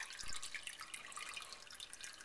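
Beer wort dripping from a hanging grain bag, a quiet steady patter of small drops with no talk.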